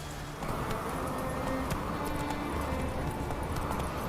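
Geralt's horse Roach in the Witcher 3 video game clip-clops in a steady trot of hoofbeats at close range over a constant ambient bed, with a brief whinny-like tone and some speech.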